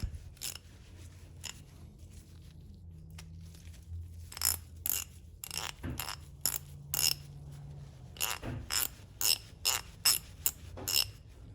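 Sharp metallic clicks from a freshly greased John Deere ratchet wrench, first sparse, then in quick bursts, over a low steady hum; no voices.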